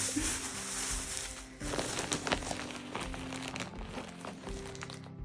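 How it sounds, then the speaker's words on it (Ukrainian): Plastic garbage bags and shoe covers crinkle and rustle continuously up close, with scattered crisp crackles and handling noises throughout, no voices. "кладу сміттєві пакети, кладу бахіли і просто пакетик"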